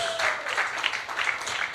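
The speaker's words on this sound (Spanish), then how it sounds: "un aplauso para ustedes" A church congregation breaks into applause, a moderate, continuous patter of many hands clapping through a short stretch, with a faint voice briefly audible at the start.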